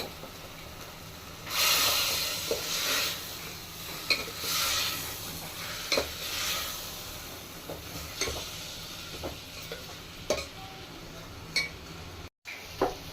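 Moong dal tempering crackles in hot fat in a pot, with hissing bursts of sizzle rising and fading over spoon knocks and stirring scrapes, close and without talk.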